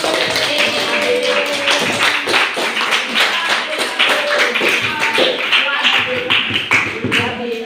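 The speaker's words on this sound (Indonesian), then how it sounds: "Tepuk tangan, Mbak Mira." A classroom group claps for a student named Mira during a civics lesson, a brisk run of many hands clapping with a speaking voice partly over it.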